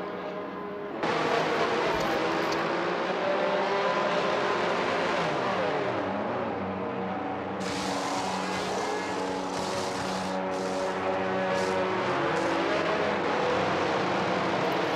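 Formula 1 race cars roar in a racing video game, a continuous engine drone that surges and shifts pitch as the cars pass, loud and steady with no talk.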